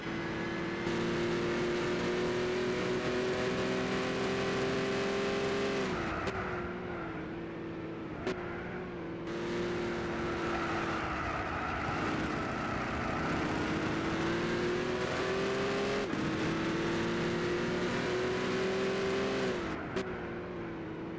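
Race car in Gran Turismo 6 with a loud, sustained engine drone that rises and falls through gear changes, with brief lifts around the middle and end, heard close and alone without talk.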